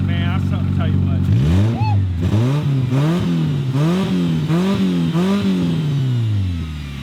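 A car engine revs hard on a two-step launch limiter in a rapid, bouncing rhythm, climbing and dropping over and over, while smoking. It is loud and close, and voices shout over it.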